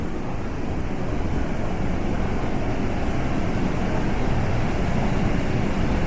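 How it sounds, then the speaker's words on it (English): Water pours through the water wheel of an old mill in Pigeon Forge, making a loud, continuous broadband rush with no breaks and no voices. "And you can actually see the water wheel for the old mill."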